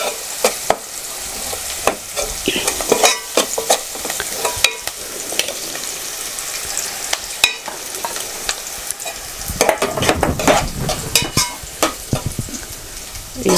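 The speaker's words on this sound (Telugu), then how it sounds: "మెంతిని ఒక రెండు నిమిషాలు ఆయిల్లో వేయించుకొని తర్వాత టమాటాలు వేసుకుంటాం" Fenugreek fries in hot oil for a village-style bean and tomato curry, hissing steadily while a spoon scrapes and stirs in repeated sharp bursts, close and alone.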